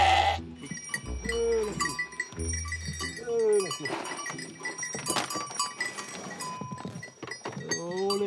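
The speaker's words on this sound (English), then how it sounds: "Just a few lambs are left down here." Lambs bleating in a valley pasture on a sheep farm, several wavering cries repeating close by, with faint clinks and other farm sounds around them.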